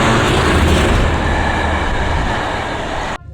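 A London Underground train bound for South Kensington runs loudly through a tunnel with a dense rumbling roar and rail clatter, easing slightly before cutting off abruptly near the end.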